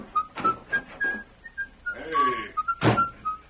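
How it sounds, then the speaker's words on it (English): A man whistles a light, carefree tune as he walks away, the notes bright and moderately near, with a brief thump partway through. "Now leave here and whistle as you go."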